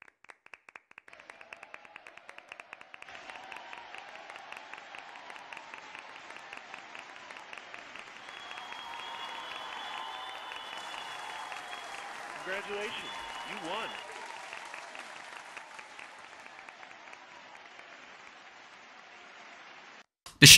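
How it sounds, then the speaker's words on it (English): Clapping sound effect from the Havoc Blade melee weapon in the Phantom Forces video game, a round of applause that builds and continues for many seconds while a voice talks over it. "The Havoc Blade has a clapping sound effect as a congratulations for reaching rank 100"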